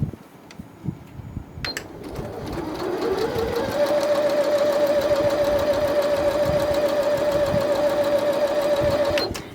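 A Janome 1030MX sewing machine stitching quilted fabric for a mug rug speeds up into a steady, fast mechanical whir with a rhythmic needle clatter close by, then stops with a couple of clicks.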